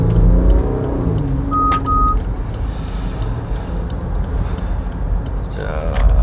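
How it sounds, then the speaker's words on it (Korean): Jeep Grand Cherokee flagship SUV, over two tonnes, accelerating from a short ramp onto the main road: a loud, steady engine and road roar fills the cabin throughout, with a brief tonal chime partway through and speech faintly underneath. "가속을 해서 본선에 진입했습니다"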